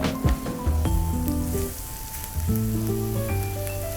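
Onions sautéing in a kadai for kadai paneer give a soft, continuous sizzle with light stirring, mostly under prominent melodic background music.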